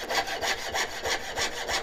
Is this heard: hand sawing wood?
yes